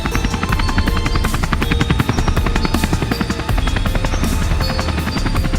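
A helicopter arrives in an animated horror-comedy story, its rotor beating out a steady, fast chop with engine whine, loud and close throughout with no talk.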